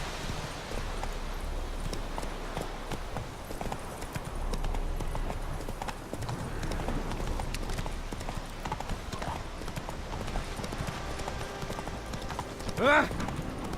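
Hooves of Roach, a horse in The Witcher 3 video game, clip-clopping in a steady walking rhythm throughout, fairly quiet and close, with rustling ambience and a brief vocal burst near the end.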